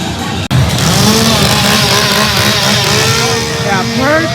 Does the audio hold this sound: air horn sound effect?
no